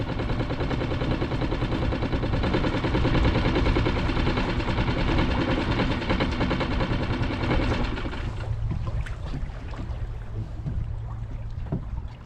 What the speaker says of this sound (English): maybe I'll turn the engine off.